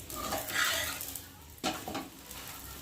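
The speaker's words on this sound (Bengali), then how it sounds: "আর একটা ভাজছি দেখো, একটু বেশি করে তেল দিয়ে ভাজছি" Flour roti frying in a generous amount of oil in a pan, a steady close sizzle with a scrape or stir partway through, no talking.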